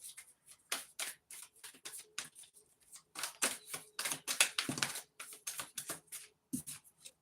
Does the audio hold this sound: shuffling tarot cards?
yes